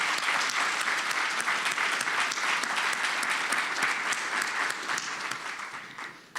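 A university audience applauds its veterans outreach committee at a Veterans Day recognition event, dense sustained clapping from a full room that tapers off near the end.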